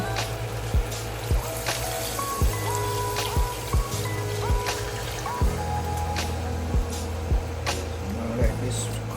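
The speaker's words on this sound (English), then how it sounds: "I'm gonna add some water to it now." Water poured into a pot of brown stew pork on the stove, a steady splashing trickle with sizzling underneath and repeated sharp knocks and clatters throughout.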